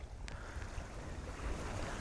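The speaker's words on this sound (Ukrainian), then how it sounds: "Такий вітер, така буря." Strong storm wind at a fishing tournament at Prylbychi, Ukraine, roars steadily with a low rumbling buffet and surf-like wash, growing slightly louder toward the end, with no voices.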